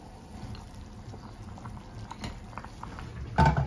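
Tomato broth for rice noodles bubbles in a pot after hot water is poured in, a soft, steady patter of boiling with a louder splash near the end.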